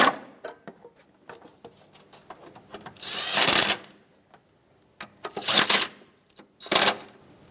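Bolts being tightened on the lower airbox of a 1997-2001 Lexus ES300 during a starter replacement, with three bursts of rapid ratchet clicking, close and fairly loud, between quieter handling taps.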